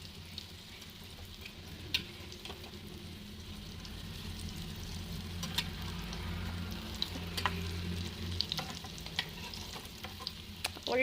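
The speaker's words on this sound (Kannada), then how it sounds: "ಈಗ ಇದನ್ನು ಇನ್ನೊಂದು ಸೈಡು ಫ್ರೈ ಮಾಡುವ." Food turned onto its other side to fry in a pan, a steady close sizzle that grows slightly louder, with frequent small spatula scrapes and taps.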